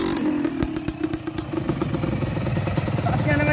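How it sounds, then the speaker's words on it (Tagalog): A Yamaha DT12 motorcycle engine runs loud and close, a dense rapid rattling putter with steady clatter throughout, while people talk nearby. "Malakas yung ginawa mong motor."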